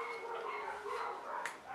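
Several dogs bark and yelp at an animal shelter in Yevpatoria, a steady, moderately loud kennel din with overlapping calls and a sharper yip near the end, no talking.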